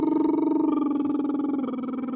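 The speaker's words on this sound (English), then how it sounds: "or lip trill" Continuous lip trill vocal warm-up, a fluttering, buzzy sung tone with rapid rhythmic pulsing, held steadily at close range and shifting pitch slightly near the end.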